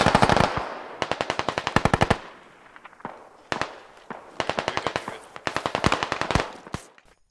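Rapid bursts of automatic gunfire rattle off in several volleys, loud and sharp with brief pauses between, plus a few single shots, in the video game Squad.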